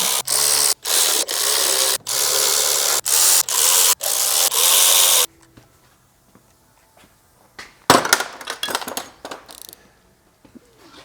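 Bolts on a Cadillac intake being tightened in a crisscross pattern with a power tool, loud bursts of ratcheting whir separated by short gaps, then quieter clinks and rattles of tools and metal parts.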